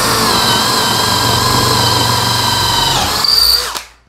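A Bosch GSB 185-LI cordless drill with a 10 mm three-point bit bores into angelim wood, whining loud and steady at high speed, then bogging briefly, cutting out and winding down at the end.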